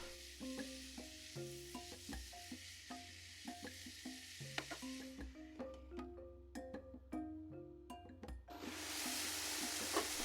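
Tuna, vegetables and cooking cream in a pan for pasta, with soft intermittent stirring and a low sizzle over quiet tonal background notes, the sizzle swelling louder and hissier near the end.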